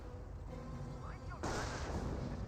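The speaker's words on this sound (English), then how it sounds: "Sniper's firing away." Sniper rifle shots go off in the Company of Heroes battlefield: distant, muffled booms sit under a dense wash of battle noise, and a louder burst of gunfire takes over partway through.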